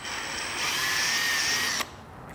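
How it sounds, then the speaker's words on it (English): A power drill slowly bores a 1/4 inch hole on a Vespa Sprint, giving a close, steady whirring whine that rises slightly in pitch and loudness before stopping abruptly after about two seconds. "I'm drilling pretty slow, just enough to cut the, and we'll see if that's the right size."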